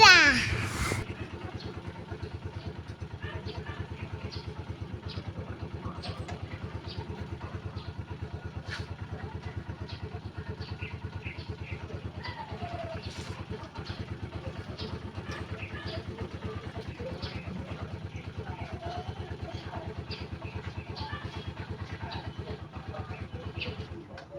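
A motorcycle engine runs in place for a long stretch while its gears are shifted, giving a steady, evenly pulsing putter at moderate loudness with light mechanical clatter and a brief louder rev at the start.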